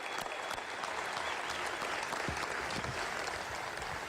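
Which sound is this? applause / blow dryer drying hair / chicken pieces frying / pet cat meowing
applause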